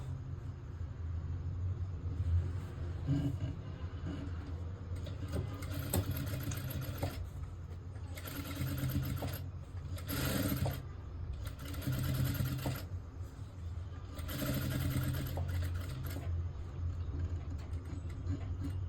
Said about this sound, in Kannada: ಈಗ ನೀಟಾಗಿ ಸ್ಟಿಚ್ ಹಾಕೊಂಬಂದ್ಬಿಟ್ರೆ ಆಯಿತು